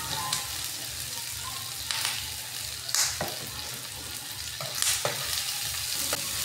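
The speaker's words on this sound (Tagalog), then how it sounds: "gisunod na ako pagpreto ang ako taghiwa na karne" Sliced meat frying in hot oil in a pan, a steady sizzle with intermittent stirring scrapes and clatters, close and moderately loud, with no talking.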